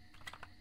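A computer keyboard hammered in a fast, quick flurry of a few keystrokes while playing a horror game, soft and close with no voices.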